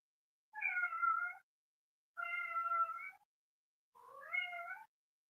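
A cat meowing three times, each call long and drawn out with a rising and falling pitch, evenly spaced and fairly quiet, alone with no talking.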